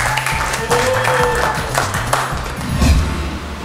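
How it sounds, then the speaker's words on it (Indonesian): A crowd clapping steadily, moderately loud, with some pinging tones and background noise mixed in. "Silakan berdiri. Tepuk tangan dulu."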